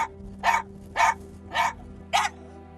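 A dog barks inside a car, four evenly spaced, loud barks about half a second apart over a low engine hum.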